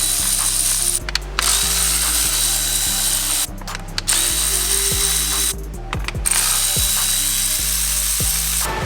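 A hand ratchet breaks loose and backs out the intake manifold bolts on a Subaru WRX, giving rapid, loud, close clicking runs broken by brief pauses between strokes.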